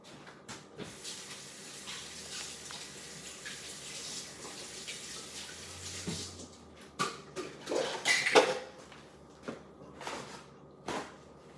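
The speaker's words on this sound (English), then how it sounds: "I'm gonna have to go wash my hands again." Water runs from a tap during handwashing in a home kitchen, a steady soft rush that breaks into louder splashes and clatters toward the end.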